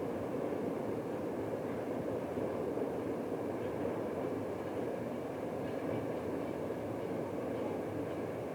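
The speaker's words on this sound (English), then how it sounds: "A vast variety of different train formations can be seen crossing the bridge" A train rolls across a railway bridge in Europe, a steady broadband rumble and clatter of wagons at moderate distance, continuous with no voices.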